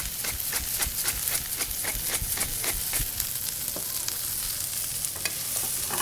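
Brussels sprouts frying in rendered bacon fat, seasoned with salt and cracked black pepper, giving a steady close sizzle with repeated sharp crackles and pops and occasional stirring scrapes throughout.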